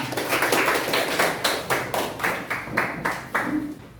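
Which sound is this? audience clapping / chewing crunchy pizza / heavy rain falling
audience clapping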